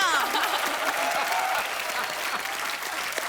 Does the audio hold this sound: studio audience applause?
yes